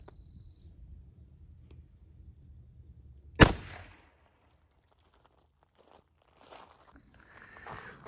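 One sharp, loud gunshot from a 4-inch .38 Special revolver firing a Federal Punch load, a single crack that decays quickly into near silence, with faint shuffling before and after.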